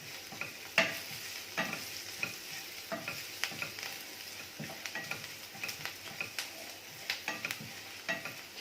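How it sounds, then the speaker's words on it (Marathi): Urad dal frying in oil in a pan, a steady close sizzle broken by repeated sharp scraping clicks of a spoon stirring it, with no talk. "छान ब्राऊन करून घ्यायची आहे डाळ।"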